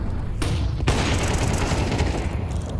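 A heavy AWP sniper rifle shot in a Counter-Strike match, a sharp close crack with a booming tail, set amid ongoing gunfire and game noise.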